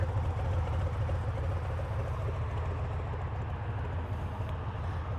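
Harley-Davidson Softail Heritage Classic 114 with an open air filter, engine running at high revs, a steady, deep, loud rumble that drones on without breaks from start to finish.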